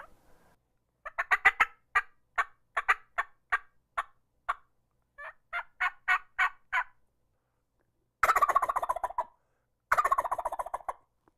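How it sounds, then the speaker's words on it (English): Wild turkey gobbler in Wisconsin gobbling repeatedly, loud rolling bursts in quick series separated by short pauses, closing with two longer, fuller gobbles, heard alone with no talk. "a gobbler, especially one if I can see him and he's not quite in range"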